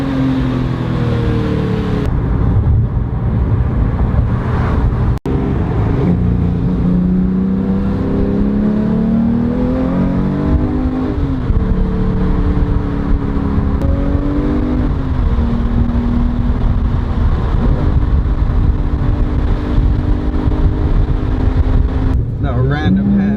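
Porsche 911R sports car driving on winding roads with hairpins, its engine note climbing and falling steadily through gear changes for the whole stretch, close and loud, with a person talking over it much of the time.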